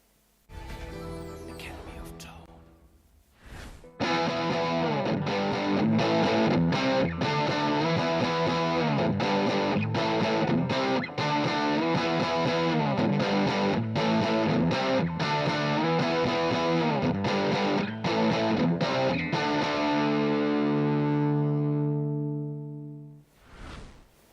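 Electric guitar through an amp's vintage channel with heavy distortion, a sustained riff of chords and single notes played for about twenty seconds, ending on a long ringing chord that fades out, loud and clear with no talking.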